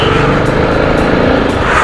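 Dense Mumbai road traffic surrounds an Apache RR 310 motorcycle in a jam, a loud, steady roar of engines and wind noise with no break.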